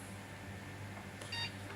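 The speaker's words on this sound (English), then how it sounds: "Can you hear that beeping?" A computer powered through a restored four-gang power lead gives a brief electronic beep pattern, a quick series of faint, thin high tones over a steady low hum, with no talk.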